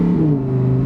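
A 2023 Lamborghini Huracan STO's V10 engine holds a loud, steady, close-up rev with strong layered harmonics for about a second.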